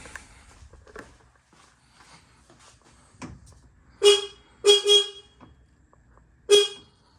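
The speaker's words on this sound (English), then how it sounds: "Let's press the horn, see what it sounds like." Hella aftermarket car horn fitted to a Hummer H1, sounding several loud, high-pitched honks: two short blasts close together, a third slightly longer, then one more after a pause, with quiet workshop handling noise between.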